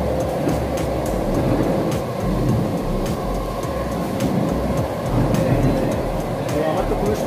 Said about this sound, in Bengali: এখন মেট্রো চলছে, আমরা এখনো মাটির নিচে আছি